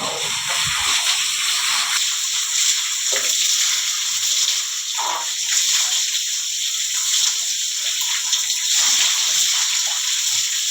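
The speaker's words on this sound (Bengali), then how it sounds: "এখন পাইপ দিয়েই গোসল করানো হয়ে যায় মোটর ছেড়ে দিয়েছে যত পানি লাগাবা লাগাও" Water gushes from a motor-pumped pipe as a cow is bathed, a loud, continuous splashing rush that holds steady throughout with brief shifts as the stream hits the animal.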